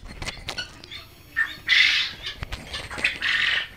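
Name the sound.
quails squawking on a quail farm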